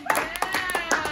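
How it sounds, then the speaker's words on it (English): A small group clapping hands during a fitness boot camp session, a few loose, uneven claps in quick succession, fairly close, with light background noise. "So, let's clap it on in,"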